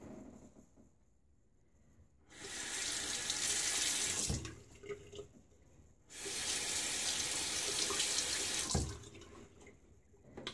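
Bathroom tap running to rinse after a wet shave, water gushing into a sink in two long bursts of several seconds each, separated by quieter pauses with small splashes and handling noises.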